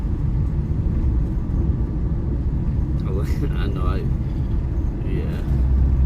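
Truck driving down a road toward a house, a steady low rumble of engine and road noise throughout, with brief faint voices partway through.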